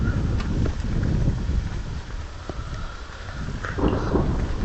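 Thunder rumbles low through a thunderstorm with steady rain noise, loud and continuous, swelling and easing across the few seconds with no voices.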